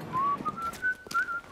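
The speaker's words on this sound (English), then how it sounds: "I forbid whistling." A game character in Bioshock whistles a wavering tune in a few short phrases, fairly close and clear over a quiet background.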